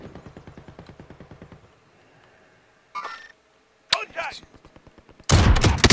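Call of Duty Warzone gunfire: rapid bursts of automatic shots, a pause, then scattered single cracks and a loud sustained volley at the end, with a few brief voices in between.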